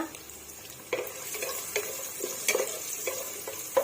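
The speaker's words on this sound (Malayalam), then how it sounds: "സവാള നമ്മൾ ഇട്ട് കൊടുക്കുകയാണ്. ഇതൊരു 3 സ്മോൾ സവാളയാണ് ഞാൻ എടുത്തിരിക്കുന്നത്, 3 സ്മോൾ ഓണിയൻ. അപ്പോൾ അത് ഞാൻ ഇതിൻ്റെ അകത്തേക്ക് ഇട്ട് കൊടുക്കുകയാണ്." Sliced small onions stirred into a frying pan of cashew nuts in hot fat, giving a soft steady sizzle with scraping stirs and light clinks at irregular intervals, close by and fairly quiet.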